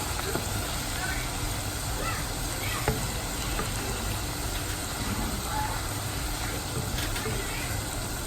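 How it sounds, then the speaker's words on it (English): Egusi (ground melon seed) frying in a pot of soup base, a steady dense sizzle and crackle running throughout at moderate level, with faint stirring and small clinks over it and a voice heard in the background. "I want it to fry a bit so that I can start breaking it."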